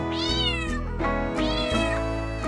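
A pet black cat meows softly in a Hindi nursery rhyme, giving two drawn-out, rising-then-falling meows in quick succession, clear and close over a steady musical backing.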